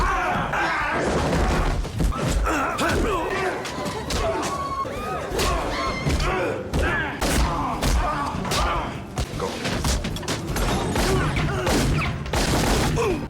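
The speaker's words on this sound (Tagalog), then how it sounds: "si Kirov ay binaril ni Ivan" Gunfire rattles through a loud film fight scene, with dense bursts of shots, thuds and crashes layered over a constant roar of action sound effects and a voice talking throughout.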